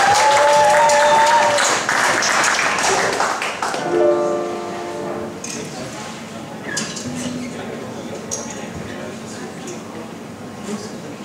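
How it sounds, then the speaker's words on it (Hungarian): An audience applauds in a dense patter that starts strong and gradually thins and fades, with some voices mixed in at the start. "Kérlek egy taps!"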